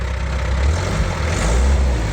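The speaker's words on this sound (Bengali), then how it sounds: "এবং ইঞ্জিনের সাউন্ডটাও খুবই সুন্দর সাউন্ড।" Engine of a 2016-model pickup truck with a 12-foot body running steadily after starting, a loud, close, low throbbing idle with slight rises in revs.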